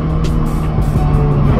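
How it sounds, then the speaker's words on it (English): Mercedes-Benz C300 convertible with AMG line in sport plus mode gives a steady, deep bassy engine drone, loud and continuous throughout, with a little wind and road noise on top. "now I put it into sport plus and you hear already like a bassy sound"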